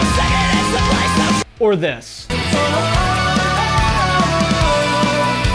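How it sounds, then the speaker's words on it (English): Post-hardcore band plays in loud excerpts of distorted guitars, drums and vocals, cut by a brief break where a voice speaks before the music resumes. "They're, I guess, what you call a post-hardcore band that's been around for about 15 years,"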